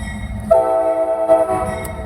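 A four-engine CSX coal train rumbles by at a crossing in Marion, Ohio, with a steady low roar, and a sustained horn tone sounds partway through.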